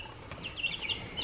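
Chickens cluck and chirp in short, soft high calls scattered over a quiet outdoor background, faint and somewhat distant.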